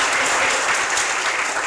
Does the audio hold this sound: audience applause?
yes